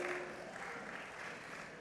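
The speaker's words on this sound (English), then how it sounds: "applaud the family and friends who brought you here today" Graduates at a Georgetown commencement ceremony applaud, a faint, dense wash of clapping from a large crowd, steady and distant throughout.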